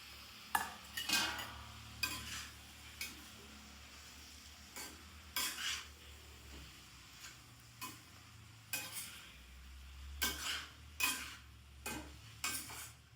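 Tomatoes and green chillies cooking in a pan for ridge gourd curry, a faint soft sizzle punctuated by repeated sharp scrapes and clinks of a spoon stirring against the pan.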